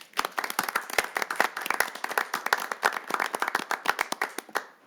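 A small group at a city council meeting claps for a police officer, producing a brisk run of sharp, distinct hand claps that is close and fairly clear and trails off into a few last claps.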